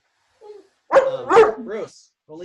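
A dog lets out a soft whimper, then a couple of close yipping barks and a whine after a brief pause.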